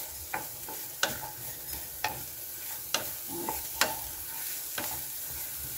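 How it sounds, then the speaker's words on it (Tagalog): Garlic and onion sauté in a little oil, with a soft, constant sizzle broken by regular spatula strokes about once a second, close and fairly quiet. "ilagay natin ang ating bawang at saka sibuyas na panggisa"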